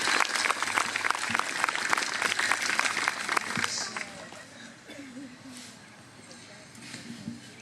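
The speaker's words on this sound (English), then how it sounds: "Give yourselves a big round of applause for that." Audience applause at the West TN Freedom Celebration 2010, a full burst of clapping from a crowd that thins out after about four seconds into scattered claps and murmuring.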